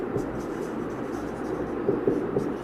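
Marker or chalk writing on a board during a physics lesson, a steady faint scratchy scraping with a few brief stroke accents, alone with no talk.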